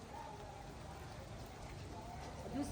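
Heavy rain falls steadily over a village as a continuous, fairly faint broadband hiss, with voices talking softly in the background.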